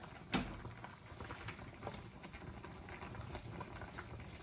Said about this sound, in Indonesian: Nah, ini dia sudah mulai mendidih.